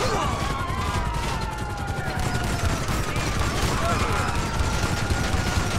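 Dense shotgun and gunfire exchange in a video game, loud and continuous, with overlapping shots and clatter under a busy mix of noise.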